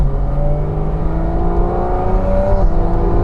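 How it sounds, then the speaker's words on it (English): Porsche Cayman GT4 RS heading out onto a race track: a loud, close engine drone with rising tonal whine as it accelerates steadily, no voices over it. "Finally then, we're going to head out on track, start off in the Cayman GT4RS."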